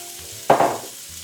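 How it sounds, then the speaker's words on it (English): Pre-sliced vegetables dropped into a pan with about a tablespoon of hot oil, setting off a sudden loud sizzling burst that quickly dies down to a softer hiss, with no voices. "we're going to add all the vegetables that we've pre-sliced into a pan with"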